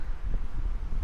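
Wind buffets the microphone while cycling near Fujikawaguchiko, Japan, a brief low continuous rumble with no talk.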